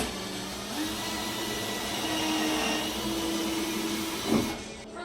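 A small drill boring a pilot screw hole in the bottom of a plywood model tugboat hull, a steady whirring hum held for several seconds with slight changes in pitch, close and alone, ending in a brief louder burst as it finishes.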